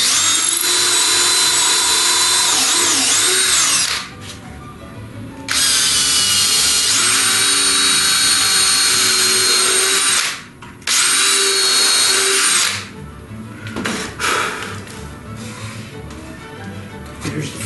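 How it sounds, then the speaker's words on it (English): A power drill drives a screw into wood while building a sewing table elevator prototype, running in loud sustained bursts of whine that stop and restart several times, with short quieter gaps between runs. "letting the drill guide itself will keep it straight"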